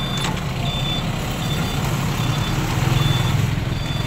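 A reversing truck's backup alarm beeps in a steady repeating pattern under a loud, rumbling engine idle outdoors, with no one talking.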